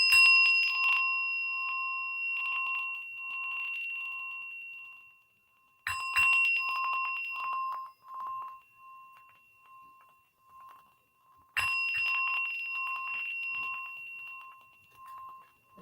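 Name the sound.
bell rung three times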